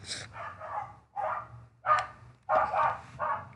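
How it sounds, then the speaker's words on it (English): Dogs bark repeatedly nearby in short, loud bursts, several barks arriving in quick groups separated by brief pauses, with no one speaking. "Damn dogs."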